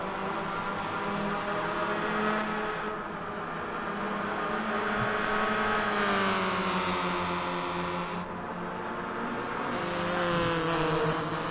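Race cars in the racing game Gran Turismo drone steadily with layered engine whines that rise and fall slightly, a constant, moderately loud hum with no voices.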